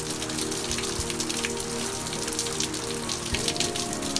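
Rain pattering on an umbrella makes a dense, steady, close drumming of drops that stays fairly loud all the way through, with no voices.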